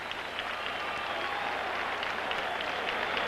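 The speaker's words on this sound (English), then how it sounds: "the crowd still applauds the effort by the Giants" Stadium crowd applauding the Giants at a 1979 Cowboys at Giants football game, a steady, dense wash of clapping spread across the stands, even and sustained with no break.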